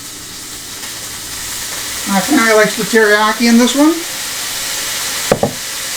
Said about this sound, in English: Oh, that sizzle. There is no better sound when you're cooking than that sizzle.